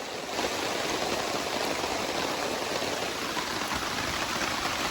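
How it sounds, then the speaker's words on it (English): Intense rain during a storm on a woodland hiking trail by Walkers Creek, a dense steady hiss of heavy downpour that stays constant and moderately loud throughout, with no voices. "Pretty intense rain right now."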